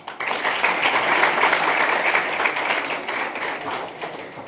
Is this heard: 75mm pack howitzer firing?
no